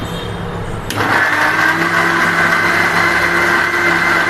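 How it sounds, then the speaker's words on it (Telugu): A kitchen mixer grinder starts up after a second and runs at a loud, steady high-pitched whir, blending ground drumstick leaf powder with another dry powder. "ఇప్పుడు ఈ రెండు కలిపి మిక్సీ పట్టేద్దాం ఒక్కసారి, ఒక్క రౌండ్ తిప్పితే అయిపోయిగా."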